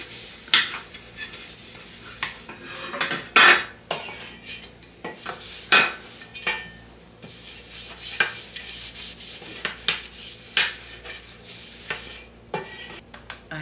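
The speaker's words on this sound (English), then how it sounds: "We want to oil the lids also." Metal pan lids being oiled give off irregular scraping and clinking rubs, with sharper metallic knocks here and there. The strokes are close and moderately loud, and no one speaks.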